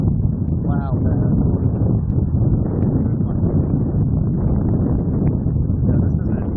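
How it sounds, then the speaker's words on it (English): Strong wind gusts across a Space Coast, Florida beach during a swell, a loud constant rumbling buffet on the microphone with someone talking over it now and then. "This is too windy out here."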